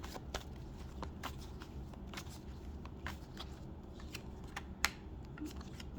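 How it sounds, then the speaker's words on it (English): A deck of tarot cards is shuffled by hand, giving soft, uneven riffling and crisp flicks and snaps over a steady low background, with no talking. "These cards needed a lot of shuffling"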